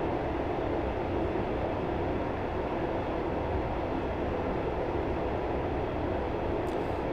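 A Class 143 diesel railbus coasts at about 50 mph with power idled in Train Simulator 2018, giving a steady, even rumble of wheels and running gear that holds at constant loudness without a break.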